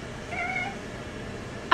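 A cat hiding under a rug lets out a single clear meow, close and moderately loud, in an otherwise quiet room, followed by a brief sharp knock at the very end.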